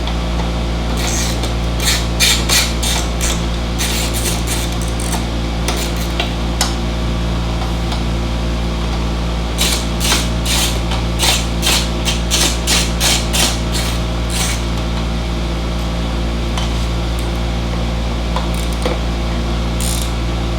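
Screws being backed out with a T25 Torx driver on a Harley-Davidson during a Sony XAV-AX5000 stereo install: steady mechanical hum with bursts of scraping, ratcheting driver clicks in two clusters, no talking.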